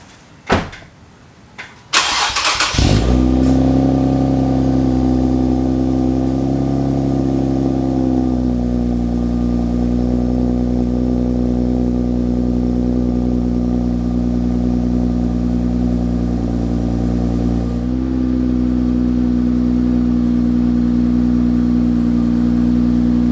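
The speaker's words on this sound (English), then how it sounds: "But first, cold start." A car engine cold-starts at a cars-and-coffee meet: a door thud and brief cranking, then the engine catches loudly and settles into a high, steady fast idle that eases slightly later, close by.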